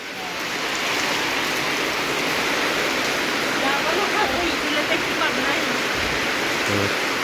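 Rainwater spills off the roofs of a village house and its kitchen, making a dense, steady rushing wash close by that lasts throughout with barely any change.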